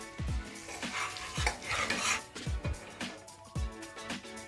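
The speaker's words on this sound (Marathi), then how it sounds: "आता हे बेसन पीठ जे आहे ते आपण याच्यामध्ये टाकायचं आहे, कारण बेसन आपल्याला भाजून घ्यायचं आहे।" Besan flour being added and stirred with spices in a pan for kachori filling, with repeated metal scraping and clinks of a spoon against the pan at an irregular rhythm, close and fairly quiet.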